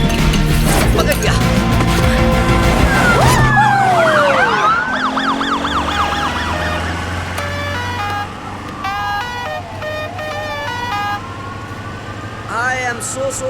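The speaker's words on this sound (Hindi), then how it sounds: "वो सायरन की आवाज है?" A siren wails loudly amid busy street noise and horns, its rising and falling tones repeating and overlapping, with voices briefly heard.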